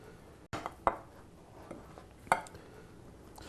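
Vegan sausage being cut into roughly three-quarter-inch pieces on a cutting board, a few sharp, separate knife knocks spaced a second or so apart against quiet background.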